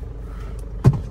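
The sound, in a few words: car being driven inside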